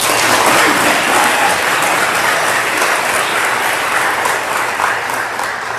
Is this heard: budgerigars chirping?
no